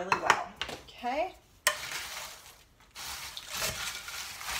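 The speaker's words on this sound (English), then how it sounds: "then we're gonna stir it really well" A holiday appetizer mixture being stirred, with wet scraping and clattering of a utensil against the bowl in uneven bursts, sandwiching a brief faint voice.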